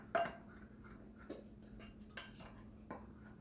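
A utensil clinks and scrapes against a bowl while banana bread dry ingredients are mixed, with a sharp knock near the start and a few quieter taps afterward; faint and close.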